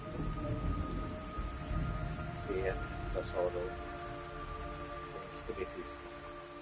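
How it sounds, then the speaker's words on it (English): Steady rain falls through a jungle level of the video game Metal Gear Solid 3 Delta, a dense continuous patter under a voice speaking over it, with scattered brighter drips and faint tonal game sounds. "It's raining blood."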